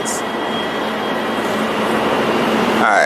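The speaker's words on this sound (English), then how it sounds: "More trains" Steady rumble of trains passing on an elevated line in Harlem, New York City, a continuous broad roar with a faint high tonal whine, holding level for a few seconds with a slight swell near the end.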